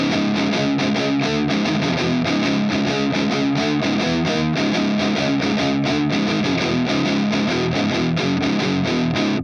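Heavily distorted electric guitar chugging loud, rhythmic riffs through a Fractal Axe-Fx III amp model with no boost, dense and saturated throughout.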